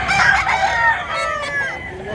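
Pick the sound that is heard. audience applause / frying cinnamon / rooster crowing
rooster crowing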